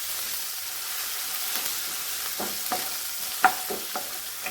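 Crushed onion and green chili frying and being stirred for cabbage thoran: a steady soft sizzle with a few clinking stirs near the end, fairly faint, with no voices.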